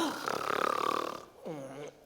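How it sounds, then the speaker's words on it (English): An actor playing the Centipede in a community stage production of James and the Giant Peach gives a nasal, rasping snore, a long drawn-out breath followed by a shorter voiced snort, fairly close and alone. "It was just Centipede snoring."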